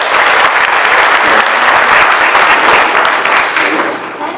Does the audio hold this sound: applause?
yes